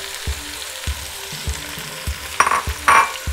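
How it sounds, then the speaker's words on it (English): Onions and garlic fry alongside chicken in a pan, a close steady sizzle under regular low thumps, with a couple of louder bursts of scraping near the end. "now I'm going to add my onions and my garlic."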